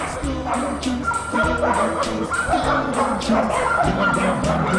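Dogs bark and yip in a Golden Chunks dog food advert, several short bright yaps repeating over a steady, busy musical jingle throughout.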